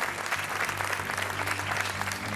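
Studio audience applause on the Portuguese quiz show Joker, dense and continuous clapping at a steady loud level throughout with a low hum underneath.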